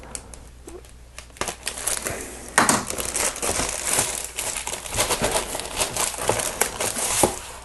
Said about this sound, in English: I'll just cut it with my blade.